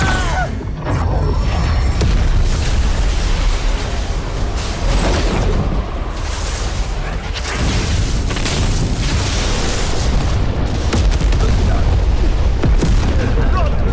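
Loud, continuous explosive blast rumble from a mountain being blown apart in a fantasy drama battle scene, booming and dense throughout with shouting voices mixed in.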